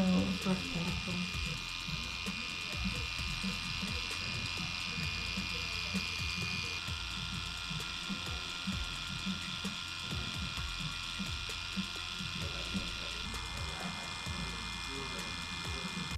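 A tattoo machine fitted with three needles buzzes continuously during a Hannya mask neck tattoo, a steady mid-level electric whine with short tapping pulses, while people talk quietly in the background.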